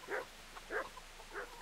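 Three evenly spaced, fairly faint dog barks come from the Kingdom Come: Deliverance video game, each short and separated by a brief pause.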